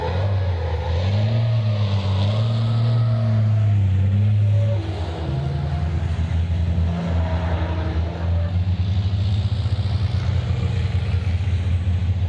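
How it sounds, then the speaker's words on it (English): A racing truck driven by Norbert Kisch drifts at the Slovakia Ring, its deep engine droning and shifting pitch loudly, then settling into a steady, rough roar. "For those of you that have never seen a truck drift, that is how it's done."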